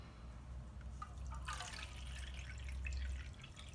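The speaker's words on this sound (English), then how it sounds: "Now we only add 1 cup of filtered water." A cup of filtered water is poured into vegan bread dough, making a faint, soft trickle with brief splashy bursts midway.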